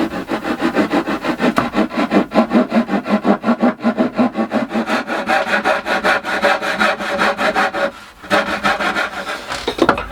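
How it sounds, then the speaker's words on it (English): A hand saw cuts through wood in a steady back-and-forth rhythm, each stroke a close, rasping rub, pausing briefly near the end before resuming. "I'll saw that through without hopefully disturbing the material underneath"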